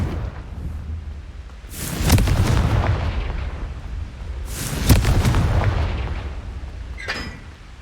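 In the Hogwarts Legacy video game, Confringo fire spells detonate in deep, heavy booms, two large blasts several seconds apart with rumbling tails, followed by a smaller, sharper burst near the end.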